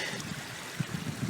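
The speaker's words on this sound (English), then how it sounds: "And you see the water is just gushing" Water gushes through a food forest toward a creek, overflowing its banks: a steady, close broadband rush with soft low gurgles and bubbling pulses, with no voices over it.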